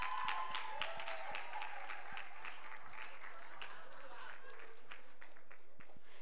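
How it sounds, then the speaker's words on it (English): An audience at a send-off ceremony claps together, a fairly faint, sustained patter of many hands in a hall that gradually thins out, with some voices murmuring underneath. "Let us clap for them."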